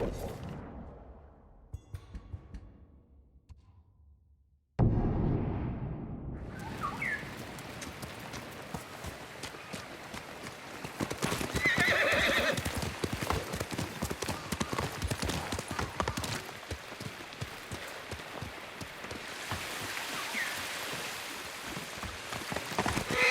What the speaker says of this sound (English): You're a good horse, Kage.